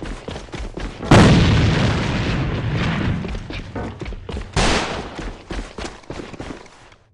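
A grenade explosion in the shooter game AVA, with a sudden loud boom at about one second that rolls off slowly, then a second blast later, over scattered gunfire with no talking.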